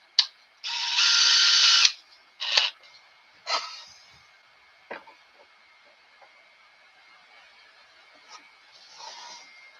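Small 5/32 drill bit boring a hole with a power drill in a gunsmithing job, one loud sustained whir of under two seconds followed by short bursts and faint clicks in a quiet shop.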